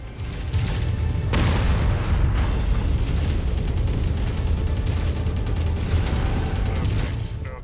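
Battle in MechWarrior 5 as mechs fire on an enemy rifleman, dense booming explosions and rapid weapon fire layered in a loud, continuous barrage that builds in the first second and rumbles throughout.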